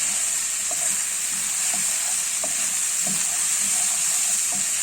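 Mushrooms fry in a hot pan with a steady, loud sizzling hiss and scattered light pops and spatters, close up, with no one talking.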